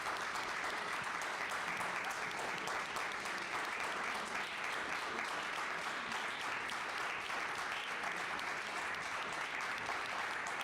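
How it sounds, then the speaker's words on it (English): An audience applauding panelists after a discussion event, a dense continuous wash of clapping that holds steady and fairly distant for about ten seconds, with no talk over it. "We can give them a round of applause."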